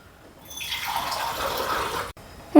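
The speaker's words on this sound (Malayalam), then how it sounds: "ഇനി ഇത് വേകാൻ ആവശ്യമായിട്ടുള്ള വെള്ളം." Water pours steadily into a pressure cooker holding raw mango and turmeric for a Kerala-style curry, a close, rushing splash that swells and runs for about two seconds before cutting off.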